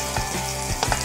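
Ingredients for a paneer pizza topping, corn among them, sizzle gently in a hot pan with a steady close crackle and a few brief stirring scrapes, no voices.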